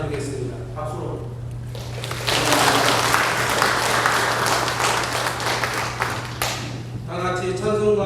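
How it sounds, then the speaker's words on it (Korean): Congregation applause during a church worship service, a sustained burst of clapping for about five seconds with a steady low hum underneath, bracketed by a voice speaking before and after. "박수로"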